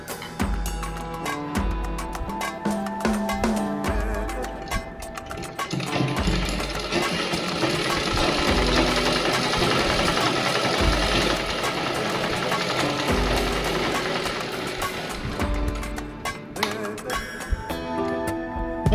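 A sewing machine stitches a folded fabric neckline, running with a rapid mechanical chatter and low rhythmic thumping, then holding a dense steady whir through the middle before tapering back to uneven stitching.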